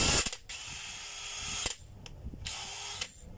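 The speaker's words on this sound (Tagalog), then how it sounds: "Testing natin yung drill muna." A handheld power drill whirs in loud bursts under test, spinning up three times with brief pauses and clicks between runs.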